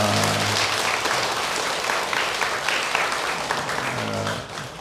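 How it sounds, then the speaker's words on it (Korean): Dense, sustained applause from an audience filling a Buddhist temple hall during a memorial Dharma service, steady and loud throughout with a faint murmur of voices beneath. "우리 모두에게 박수 한번 감사합니다."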